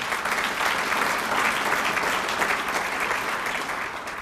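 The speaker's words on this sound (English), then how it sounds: "I think that deserves an applause" Audience at a Council for Quality Growth business event applauds steadily for several seconds, a dense, even wash of clapping heard from a little distance with no talk over it.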